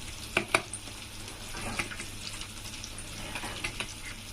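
Halwa fish (pomfret) shallow-frying in a pan makes a steady close sizzle, with a couple of sharp utensil clicks early on and softer taps later, and no one speaking.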